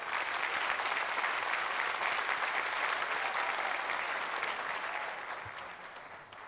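A studio audience on a Turkish music show gives sustained applause for a performer, a full, steady clapping that holds strong for several seconds and then fades out toward the end.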